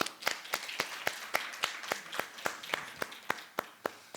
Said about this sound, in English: I really want to give you another round of applause.